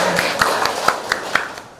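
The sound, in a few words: classroom applause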